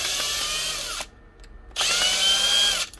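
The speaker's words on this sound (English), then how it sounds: "Pull these screws out." Cordless drill backing screws out of a broken DeWalt drill's gearbox housing: two loud whirring bursts about a second each, pitch sliding as the motor spins down, separated by a short quiet pause, close up with no talk.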